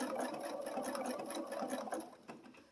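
A sewing machine stitches a back stitch along the edges of quilt shapes on a Halloween bats runner, a steady, close, rapid mechanical whir with faint rhythmic needle ticks that eases off near the end.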